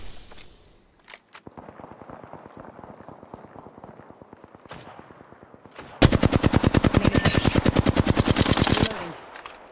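Rapid automatic gunfire in the game Apex Legends: a softer stream of shots, then a much louder, dense burst lasting several seconds before cutting off.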